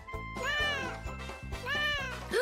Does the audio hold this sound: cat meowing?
yes